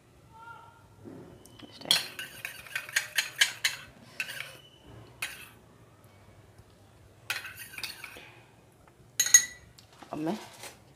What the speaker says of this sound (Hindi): ये फूड कलर मिक्स कर रही हूँ